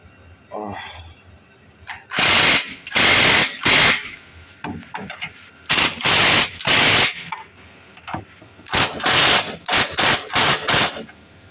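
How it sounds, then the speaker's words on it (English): Lug nuts on an old OBS Chevy truck tightened with a Harbor Freight torque tool on a 22 mm socket, heard as loud repeated rattling bursts of about a second each, close up, separated by short quiet gaps. "We're gonna torque these up to spec."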